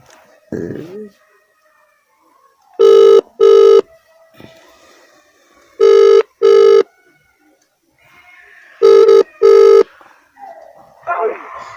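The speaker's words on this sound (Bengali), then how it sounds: "দেখি তাকে ফোন করে দেখি একটু" A phone call rings out in three evenly spaced double-burst ringback tones, loud and close, with faint voice and room noise between the rings.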